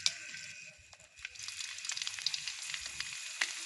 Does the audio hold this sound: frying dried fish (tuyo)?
yes